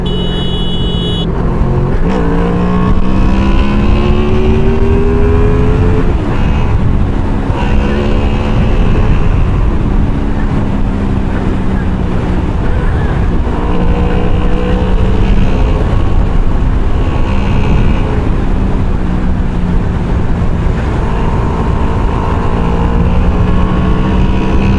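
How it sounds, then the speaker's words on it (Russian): Honda VFR800F motorcycle engine revving hard and bouncing repeatedly off the rev limiter while riding on a busy road, rising and falling engine tones loud and close throughout, with occasional rider voice over it. "Срабатывают отсечки."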